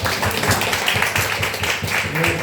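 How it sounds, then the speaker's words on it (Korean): An audience applauds a guest lecturer at a Korean church gathering, with loose overlapping claps running under ongoing speech. "박수 한번 주세요."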